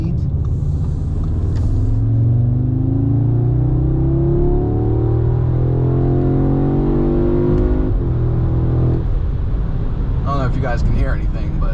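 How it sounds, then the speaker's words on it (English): An Audi S3 (8Y) in sport mode revs and drops through gears as it downshifts, heard as a loud engine rumble with rising and falling pitch sweeps and a brief shift break. A voice talks near the end. "you hit downshift, it downshifts to the lowest gear possible"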